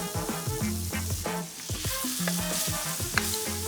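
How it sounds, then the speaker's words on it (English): Sides of meat searing in a hot pan give off a steady sizzle, partly buried under louder background music with a strong melody. "you can just take your sides and just sear the side"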